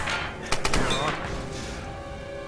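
A few sharp gunshots in the Tomb Raider game crack in quick succession early on, loud and close, then fade into a dense rumbling game soundscape.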